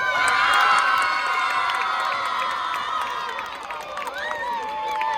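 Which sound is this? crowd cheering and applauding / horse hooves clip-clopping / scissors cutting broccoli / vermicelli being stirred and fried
crowd cheering and applauding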